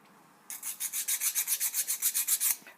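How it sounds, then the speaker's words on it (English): Wet abrasive rubs back and forth over the edge of a kiln-fired enamelled piece, about a dozen quick, even, rasping strokes close up, with no talk. "So this best works when it's wet, so I'm just going to wet it and then rub over there to get rid of the little sharp ridge."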